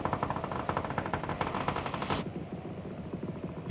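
Rapid automatic gunfire crackles through a battle royale video game match, dense bursts of shots running continuously and loud, with the firing staying steady after the bright upper layer drops away partway through.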